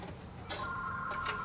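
A telephone rings indoors in short electronic bursts, faint and somewhat distant over steady background noise, with no talking.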